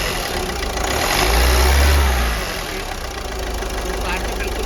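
A Ford EcoSport engine idles steadily after a rebuild, a continuous low mid-pitched hum that swells briefly as it is revved, then settles back, close and moderately loud throughout.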